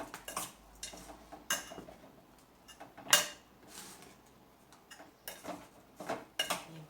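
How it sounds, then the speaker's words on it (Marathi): Raw mango pickle being mixed in a bowl, with a run of close, irregular scrapes and clinks of a spoon against the bowl and no voices. "व्यवस्थित मिक्स करून घेऊ हे सर्व।"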